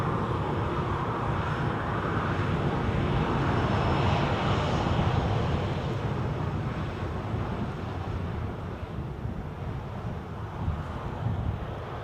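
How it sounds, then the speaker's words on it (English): A jet airliner taxiing at Edinburgh airport gives a steady, loud engine roar and whine that holds through the whole stretch, with some wind buffeting and no talking. "Rapid taxiing there."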